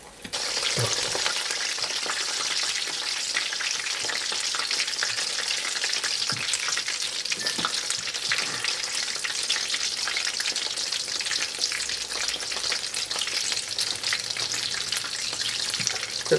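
Battered chicken pieces refrying in 350-degree oil to re-crisp, a dense, even bubbling sizzle with scattered pops that carries on steadily and close, with no talking.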